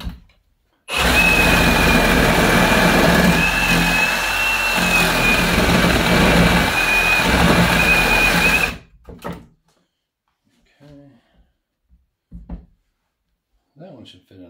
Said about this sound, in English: So we're back at the sawzall again.